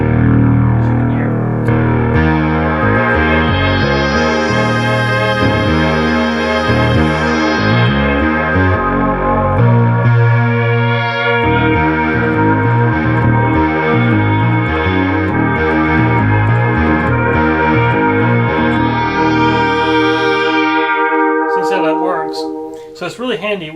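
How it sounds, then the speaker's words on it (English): Roland Jupiter-6 synthesizer in unison mode, playing a loud, thick, detuned lead with rhythmic sustained notes and chorus-like shimmer, continuous for over twenty seconds. "we can actually put it in unison mode"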